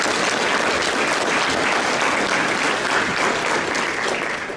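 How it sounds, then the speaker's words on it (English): Loud, dense applause from a luncheon crowd at an awards event, a continuous roar of many hands clapping together for the whole stretch, easing slightly at the very end. "So round of applause for that"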